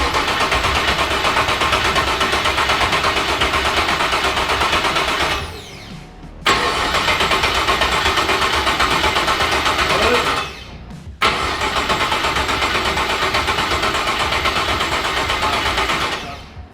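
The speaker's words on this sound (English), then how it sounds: "Now we are ready to pretty much turn the key and try and fire this thing and see what happens." A Holden Torana engine cranks over and over in long loud bursts, with the starter grinding for about five seconds each time and brief pauses between the tries, but the engine never catches.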